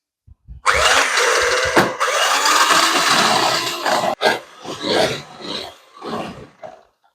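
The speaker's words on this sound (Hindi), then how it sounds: "अब ये बीट होगी तो ब्लेंडर से हम बीट करेंगे" Electric blender whipping cream, a loud continuous high whir running for about three and a half seconds, cutting out briefly and then restarting in shorter uneven bursts that fade toward the end.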